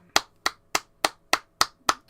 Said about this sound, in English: It's a minute applause for Sir Coam MBE.